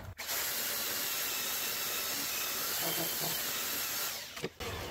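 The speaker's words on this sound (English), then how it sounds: "I'm just going to take this belt sander. It's got 40 grit on it. I'm just going to clean up the face here a little bit." A belt sander fitted with 40 grit abrasive grinds across the face of a wooden mason bee nesting board, a loud, steady coarse roar running almost the whole time before cutting off near the end.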